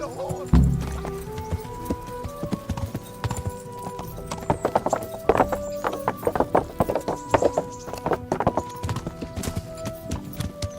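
Horse hooves clip-clopping in the medieval role-playing game Kingdom Come Deliverance, a brisk irregular run of close, sharp hoof strikes that thickens midway, with a brief whinny-like tone near the start and faint game sounds under it.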